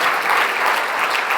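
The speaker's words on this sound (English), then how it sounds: "Can we have a big round of applause, everyone, for Kristin?" A conference audience gives a short, loud burst of applause for a speaker named Kristin, dense clapping filling the room at steady strength.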